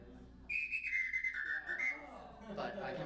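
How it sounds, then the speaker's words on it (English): A shrill, trilling samba whistle blows in a steady burst, with its pitch stepping down, followed by a brief rustle. "This is actually a samba whistle."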